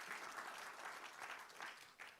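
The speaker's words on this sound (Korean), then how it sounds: "수고하신 발표자님께 큰 박수 보내주시면 고맙겠습니다" An audience at a manufacturing AI pitching event in Korea claps for a presenter after a Q&A session, producing a short, soft, steady patter of applause heard from some distance.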